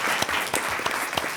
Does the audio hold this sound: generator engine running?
no